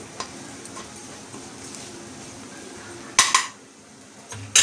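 Spices being stirred and sautéed in a pan while cooking Marathi alu bhaji, a low soft scraping and faint sizzle broken by a couple of sharp metallic clanks of a spoon against the pan, close by.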